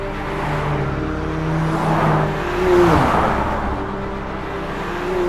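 A McLaren 570S fitted with a high-downforce kit driving on a circuit, a loud sustained engine note with shifting tonal whine that swells and dips as the car accelerates and changes gear, with no voices.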